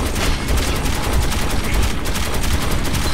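Rapid gunfire from a gun in the video game Metro 2033 Redux, a loud continuous stream of shots running the whole stretch with no gaps.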